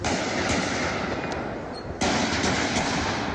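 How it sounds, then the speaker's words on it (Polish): Rapid bursts of gunfire crackle continuously, dense and sharp, with a sudden louder volley partway through, sounding somewhat distant and reverberant. "Wszystko za sprawą tych strzałów."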